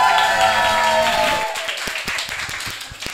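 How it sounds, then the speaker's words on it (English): Audience at a Pint of Science evening event bursts into cheering and clapping, loud at first and then thinning to scattered claps. "Everyone cheer."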